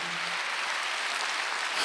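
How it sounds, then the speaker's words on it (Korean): A church congregation claps during a Wednesday worship service, producing a steady, even wash of many hands that holds at moderate loudness and swells slightly at the end. "박수하세요."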